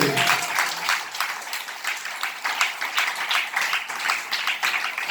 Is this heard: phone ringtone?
no